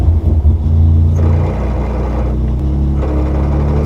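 A Peugeot 208 Rally car engine starts with a brief cranking rumble and then settles into a loud, close, steady idle, with a low droning hum and small shifts in pitch, and no voices over it.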